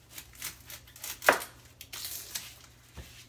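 A large kitchen knife slicing the top and bottom off an onion on a cutting board, with a few sharp, crisp chops and scrapes, one especially loud cut, against quiet kitchen background.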